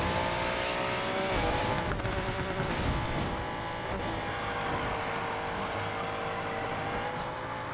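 Honda NSX driving in Need for Speed Payback, a steady, loud engine roar that holds for the whole stretch with slight shifts in pitch and no talking.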